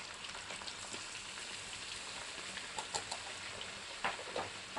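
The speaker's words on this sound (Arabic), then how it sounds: "بتطشر حتى وهي مصفى من الماء" Chicken liver, drained of water and sprinkled with salt, sizzles in a frying pan with a steady hiss and occasional sharp spattering pops, close and fairly quiet.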